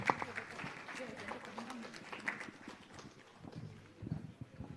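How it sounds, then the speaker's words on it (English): Conference session audience applauding in a hall, a dense, uneven patter of many hands clapping at moderate distance, with voices mixed in underneath. "Can we please have a huge round of applause?"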